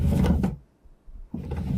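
A drawer in an old home is pulled open: a short wooden scrape and thud, a brief quiet pause, then more rattling and sliding as it moves, close and fairly loud with no talk.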